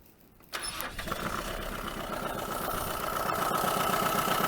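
A 1980 Dodge Colt Challenger with a newly installed carburetor and the choke on cranks briefly, catches and settles into a steady, close idle that slowly grows louder, with no talk.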